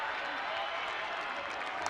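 A home crowd at a rugby match cheers and applauds, a broad steady roar of clapping and voices heard from a distance with no break.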